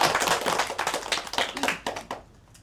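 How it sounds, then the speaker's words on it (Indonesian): Classroom of students in a microteaching session clapping together, a quick flurry of individual hand claps that thins out and stops near the end. "Tepuk tangan untuk kita semua."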